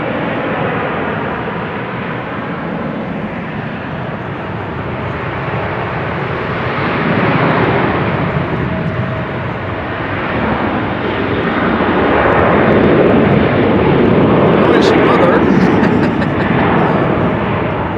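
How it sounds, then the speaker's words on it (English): A Finnair A350 airliner is pushed back at Amsterdam Schiphol Airport in showery weather, its jet engines making a loud, continuous roar and whine that swells toward the end. "Now, Finnair A350 is also getting pushed back."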